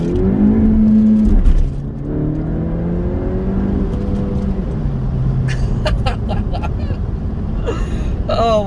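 A car engine revs and accelerates while driving, a steady engine drone with a surge near the start, heard from inside the cabin and loud throughout.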